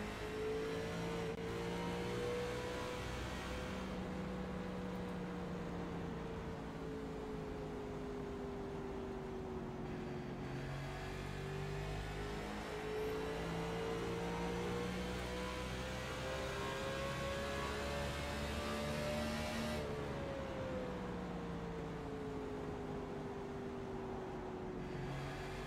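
Race car engine pulling hard through laps on a track, with a continuous loud in-car drone that rises and falls in pitch as it accelerates and shifts, steady throughout with no talking.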